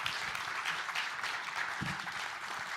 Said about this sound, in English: can we give Jamie a round of applause